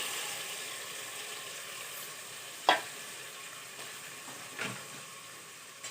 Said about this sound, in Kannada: ಸ್ವಲ್ಪ ತಿರುಗಬೇಕದು, ಚೆನ್ನಾಗಿ ಎಣ್ಣೆಯಾಗ ಬೆಂದಬೇಕದ.